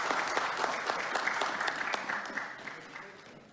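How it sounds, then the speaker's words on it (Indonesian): Members of an Indonesian parliamentary committee applaud in a meeting room, a brief burst of dense clapping with a few sharper individual claps that gradually thins and fades out within a few seconds. "Kasih tepuk tangan dulu dong"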